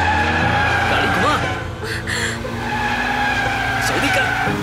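A car skids through a sharp turn in a Hindi-dubbed film chase, its tires squealing loudly and steadily over a revving engine, with voices talking over the screech.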